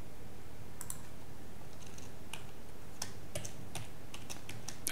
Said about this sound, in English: I will type required HTML here.